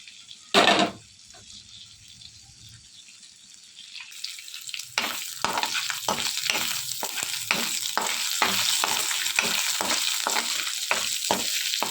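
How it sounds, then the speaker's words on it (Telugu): Spices, green chillies, garlic and cumin crackle and sizzle in hot oil while a utensil stirs in steady, rhythmic strokes, close and moderately loud. "ఇలా మొత్తం అన్నీ కూడా బాగా వేగేటట్టు ఫ్రై చేసుకోవాలి."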